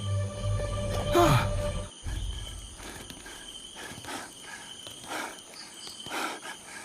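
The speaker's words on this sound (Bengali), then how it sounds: "ডালপালার মর্মর শব্দ আর ঝিঝি পোকার ডাক" Crickets chirping at night in a forest, a thin steady trill beneath rustling and a low rumble that cuts out early, with a faint voice at the start.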